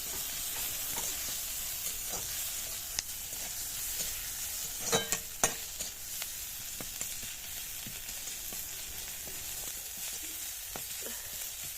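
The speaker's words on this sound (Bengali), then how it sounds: "আদা রসুনের পেস্টটা দিয়ে আমরা এটিকে ভালো করে ভেজে নেব।" Cauliflower frying in a pan with ginger garlic paste gives a steady, close sizzle for the whole stretch, with a few soft clinks and scrapes of stirring scattered through.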